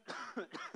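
A few quick, close coughs in a short burst, rough and throaty.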